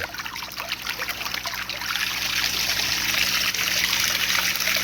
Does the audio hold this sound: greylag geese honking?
no